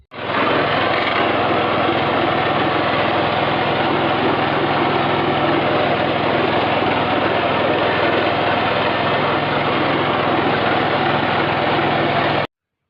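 A lawn mower engine roars loudly and steadily while cutting grass, close and unbroken, then stops abruptly at the end.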